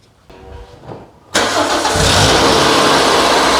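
A Toyota MR2 Roadster Mk3 with the 1ZZ engine cranks briefly with a starter whir, then fires into a loud, steady idle that settles and runs on close by.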